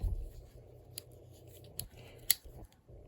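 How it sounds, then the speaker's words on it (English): A few sharp metallic snips from the small scissors of a Victorinox pocket knife, spaced irregularly over a quiet low background hum, close and crisp. "Shickety zoom, the 91mm scissors."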